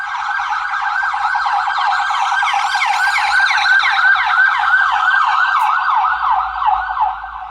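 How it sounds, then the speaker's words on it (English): An ambulance siren wails continuously as the vehicle drives past a house, a loud rapid rising-and-falling yelp with low engine rumble beneath, fading slightly toward the end. "Fucking ambulance decided to fucking drive by my fucking house."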